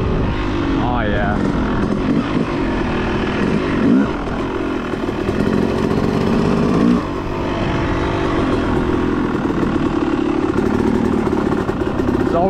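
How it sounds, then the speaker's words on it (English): A motorcycle with a flywheel weight fitted lugs in third gear at low revs, its engine a steady, loud, uneven rumble that sounds close to stalling and continues throughout. "So this is third gear, it feels like she's wanting to stall."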